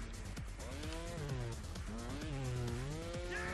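A motorbike engine in Trials Fusion revs and swoops up and down in pitch, a steady whining drone rising and falling continuously across the short stretch with no voices.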